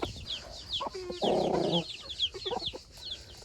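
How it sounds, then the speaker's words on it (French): Several chickens cluck and squawk close by, with a burst of harsh scuffling calls from fighting roosters in the middle and sharp high chirps throughout; no talking. "Là-bas, il y a les coqs qui se battent."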